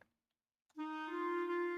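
A MuseScore 4 sampled clarinet sounds a single sustained note in one register after a brief click and short silence, clean and steady with no voices.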